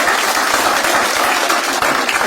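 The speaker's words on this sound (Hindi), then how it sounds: "एक बार जोरदार ताली हो जाए आपके लिए भी" Loud, dense applause fills a stand-up comedy show hosted by Gaurav Kapoor, with the whole crowd clapping steadily and closely throughout the short burst.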